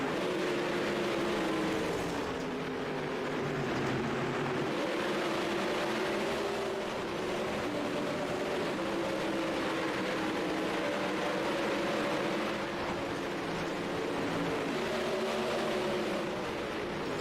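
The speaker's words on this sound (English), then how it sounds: "Loud sound of the motors here from Dylan Westbrook Racing. Crank it up style sound." Race truck engines in an iRacing simulation race roar continuously and loudly throughout, with a steady droning pitch that wavers slightly as the pack runs together.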